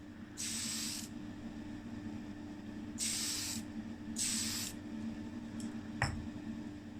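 Small Tamiya spray can coating a Hot Wheels Ford Fairmont casting: three distinct hissing bursts of about a second each, close and clear, over a low steady hum, with a light knock near the end.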